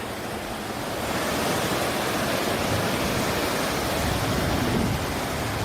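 Fast river water rushes steadily at the Bhagirathi and Alaknanda confluence at Devprayag. It forms a loud, dense, continuous roar heard from a height with no voices.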